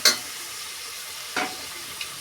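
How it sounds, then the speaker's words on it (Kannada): Spices for tempering sizzle in hot oil in a pan as part of a breakfast dish, a steady close hiss with a sharp crackling burst at the start and a second flare midway, with no talking. "ನೆಕ್ಸ್ಟು ಈಗ ಒಗ್ಗರಣೆ ಮಾಡ್ತಾ ಇದೆ"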